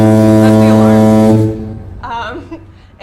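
A temperature alert alarm from the TempTracker app sounds as a loud, sustained low horn-like tone for about a second and a half, then cuts off, followed by brief talk.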